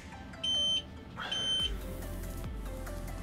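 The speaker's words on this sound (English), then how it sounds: "It's my radio telling me it's been inactive for too long" Spektrum smart radio inactivity alarm: two short bursts of high electronic beeping, fairly quiet, over a low background hum.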